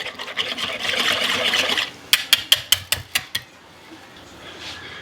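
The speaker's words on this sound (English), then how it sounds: "I'm going to whisk that all together" A whisk beats two large eggs in a bowl, a burst of quick clinking taps in an even rhythm after a stretch of softer rustling, then quiet.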